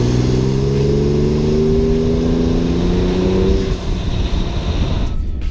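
A 2017 Ford F-150 Raptor pickup truck engine roars with a deep rising growl, then settles and fades as the truck moves off.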